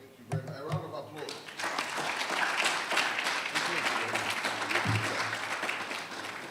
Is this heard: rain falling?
no